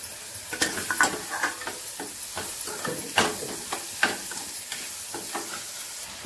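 Pumpkin and other vegetables cook in a pan with salt, turmeric and sambar powder, giving a soft, steady sizzle and hiss, with occasional stirring scrapes close by and no talking.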